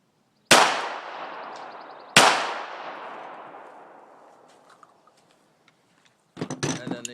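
Two sharp, loud Glock .45 pistol shots about a second and a half apart at an outdoor range, each with a long decaying echo, followed by faint metallic clatter and handling noise.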